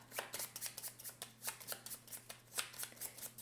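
Board game cards for Stamp Swap shuffled close up: a quick run of crisp riffling flicks and taps, fairly quiet and continuous, with no talking.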